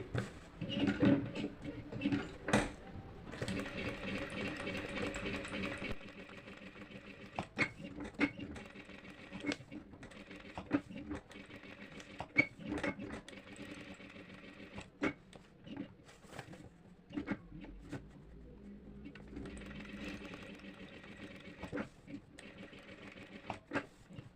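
A tailoring sewing machine stitches in short bursts of rapid clatter, with pauses and handling sounds in between. A voice speaks quietly at times.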